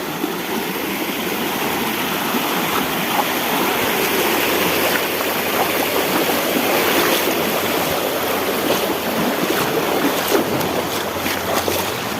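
Steady rushing river water flows continuously, a broad, even wash of sound with no voices, close and fairly loud throughout.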